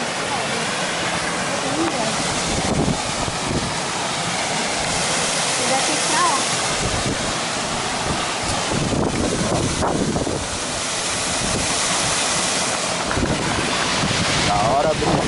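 A steady rushing roar of a waterfall on a farm in Brazil fills the clip, with wind buffeting the microphone throughout.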